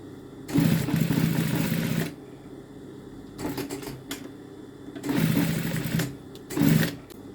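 A sewing machine stitches a garment seam in short, close bursts of whirring, one long run then several briefer runs separated by quiet pauses, with no talking.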